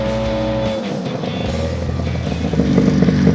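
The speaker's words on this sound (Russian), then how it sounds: "Надрываясь, рычит мотор." A tracked vehicle's engine strains and revs as its treads bite into slippery lake ice on an ice-fishing trip: a loud, close, continuous motor roar that rises in pitch and intensity toward the end, with no talking.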